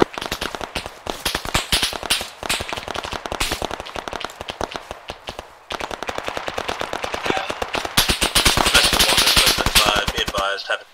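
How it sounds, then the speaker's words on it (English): Rapid gunfire into a tree line in ARMA 3, dense machine-gun bursts and overlapping rifle shots hammering almost without pause, loud and close with a brief lull midway, then an even heavier barrage at the end. "Rapid fire into the trees."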